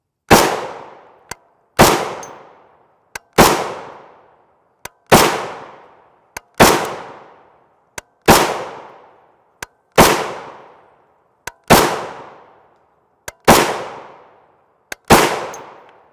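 A Springfield Hellion bullpup rifle fires 5.56 M855 FMJ rounds outdoors: ten loud, sharp shots spaced about a second and a half apart, each with a short decaying echo, plus faint clicks between them.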